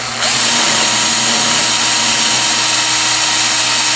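Power drill boring steadily into the base of a homemade PVC stick mount, a loud, close, continuous whine that starts abruptly and holds without pause.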